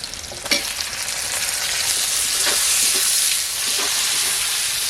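Ginger garlic paste and chopped tomato masala fry in a pan for a village-style fish curry with drumstick flowers, a loud steady sizzle with bursts of hiss as it is stirred, no voices.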